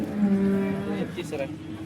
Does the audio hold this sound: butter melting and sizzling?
no